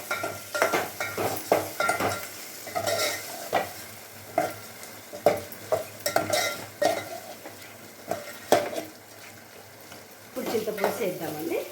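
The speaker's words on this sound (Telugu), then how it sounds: "ఇప్పుడు దోసకాయ కట్ చేసుకుని వేసుకుందాం." Cut cucumber going into a hot pan for sambar and being stirred, repeated scraping and clinking strokes of a utensil over a soft sizzle, close and rhythmic, with a voice heard briefly.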